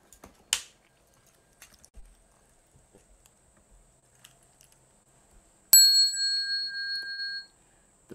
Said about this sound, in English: The bell sound wide resounds